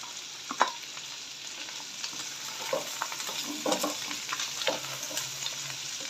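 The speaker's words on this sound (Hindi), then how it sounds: "ये गई इसके अंदर शिमला मिर्च" Chopped capsicum being stir-fried for fried rice, a soft continuous sizzle in a pan with scattered light scrapes and taps of the spatula, fairly faint and with no talking.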